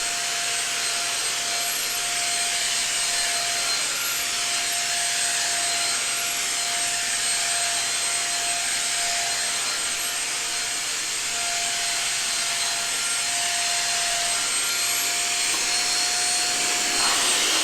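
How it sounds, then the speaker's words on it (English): An Ionvac ZipVac handheld upright vacuum cleaner runs on carpet with a loud, steady motor roar and a constant whine. The sound holds unbroken close by for the whole stretch. "let's see if it's going to vacuum any carpet."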